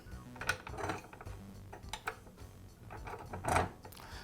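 Small metal parts clink and tick as a washer is fitted onto the vise clamp post of a Makita chop saw, a run of light close metallic taps and scrapes with a sharper clink near the end.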